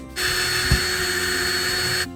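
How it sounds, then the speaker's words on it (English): A power drill fitted with a small bit bores through the side of a PVC pipe lure in one steady two-second burst of high whine, close and alone. "we'll take our smaller bit and we'll drill through the side just like we did for the front"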